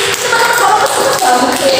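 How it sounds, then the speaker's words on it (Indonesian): Hands clapping in an online classroom session, a dense, loud, continuous patter of claps with some voices blended underneath. "Tepuk tangan dulu dong."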